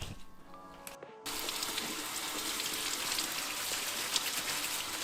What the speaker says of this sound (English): And we're also going to be rinsing all of our shrimp.